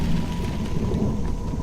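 Heavy rain pours steadily in a thunderstorm, a dense close hiss of falling water with low rumbling underneath, continuous and loud with no voices, set in an animated village story.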